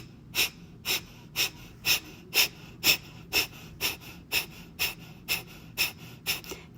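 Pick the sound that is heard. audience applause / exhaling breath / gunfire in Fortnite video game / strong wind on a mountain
exhaling breath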